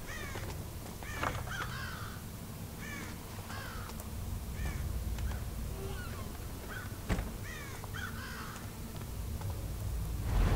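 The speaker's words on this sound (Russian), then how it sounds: "Чёртова птица." Crows caw repeatedly in the Thief video game, a series of harsh calls at moderate distance over a steady low ambient hum, with one sharper louder cry partway through.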